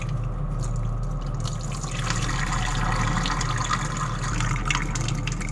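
Lentils (dal) being washed in water in a kitchen, with close, continuous splashing, swishing and trickling of water over the grains.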